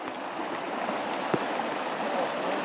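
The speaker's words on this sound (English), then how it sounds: "because it is raining" Rain falls steadily outdoors at night on a creek-side hunt, a continuous soft hiss with a single brief knock partway through, no voices.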